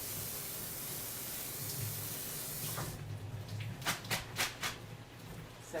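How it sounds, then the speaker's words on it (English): Tap water runs steadily over noodles being rinsed in a sink, a soft continuous hiss that shifts into splashy, uneven bursts near the end, with no talking. "I'm going to rinse off my noodles."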